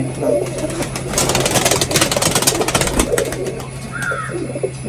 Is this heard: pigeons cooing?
yes